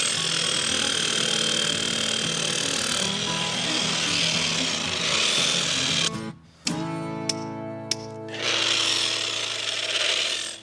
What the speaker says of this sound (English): I think I'm ready to start trying the jackhammer now